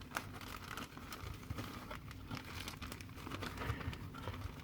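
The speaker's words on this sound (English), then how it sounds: "Squash the air out the bag." A resealable plastic bag holding compost is handled and squashed to push the air out, giving a steady close crinkling and rustling with small crackles throughout, no talking.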